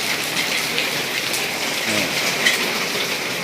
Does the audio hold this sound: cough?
no